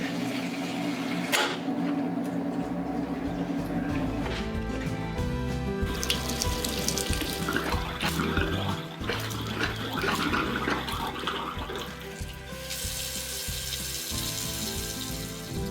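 Water rushes into a heat pump water heater tank in a garage and flows through its piping, a continuous hiss with tonal resonances and shifting gurgles that grow brighter as the fill goes on, with no talking.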